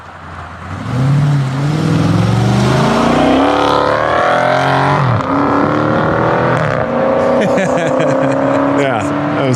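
A Fiat car accelerates loudly with a rising engine note, the revs climbing, dropping briefly at gear changes and building again, close by.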